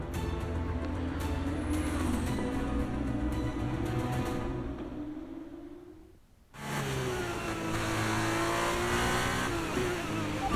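An F1 car on brand new tyres pulls away in the racing game F1 23, its high engine whine climbing through gears, briefly dropping to near silence, then surging again loud and close.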